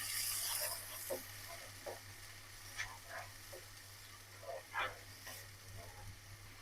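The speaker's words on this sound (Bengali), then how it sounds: "মশলাটা কষাই নেব।" Chili powder, turmeric and salt fry in hot oil in a pan, a steady close sizzle with occasional stirring scrapes and clinks over a low background hum.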